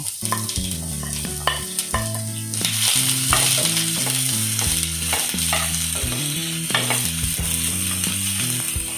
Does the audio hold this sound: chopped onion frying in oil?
yes